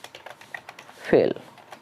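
Quick keystrokes patter on a computer keyboard while someone codes JavaScript, ending in a louder, heavier key press, all close and fairly quiet beneath a man's speech.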